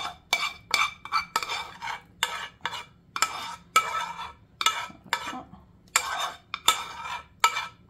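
A cream and cheese mixture being stirred in a pan, with about a dozen close scraping strokes in a quick, uneven rhythm and brief pauses between them.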